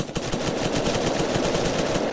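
Loud, rapid bursts of automatic gunfire in a video game rattle on continuously without a pause, close and harsh, with no one talking.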